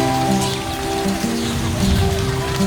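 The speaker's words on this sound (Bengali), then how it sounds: "দেখুন অলরেডি বৃষ্টি শুরু হয়ে গেছে।" Rain falling on the roof of a village house: a steady, dense patter across the whole stretch, with a low, continuous tonal hum running beneath it.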